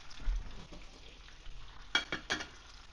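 Bacon fries in a pan with a soft, steady sizzle and crackle, broken by a few sharper pops and scrapes near the end.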